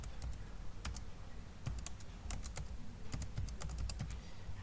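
A mobile number being entered on a computer keyboard: sharp individual key clicks in irregular bursts, fairly close and quiet over a low background hum, with no one talking.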